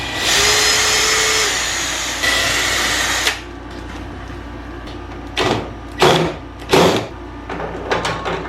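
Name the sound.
power tool fastening caster wheels onto rolling workbench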